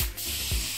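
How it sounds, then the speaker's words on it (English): A steady, close hiss of an aerosol spray can releasing adhesive, running continuously with a brief dip partway through. "spray some on this and see if"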